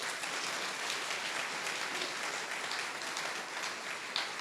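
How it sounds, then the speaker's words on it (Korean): A hall full of attendees at a church general conference gives sustained welcoming applause for bishop candidates at a joint policy presentation, a thick, steady wash of clapping throughout. "환영의 박수 쳐주시기 바랍니다."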